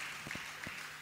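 An audience at a live Fără Zahăr comedy show in Lupeni applauds, a dense wash of clapping with a few distinct claps standing out, moderately loud throughout the brief moment.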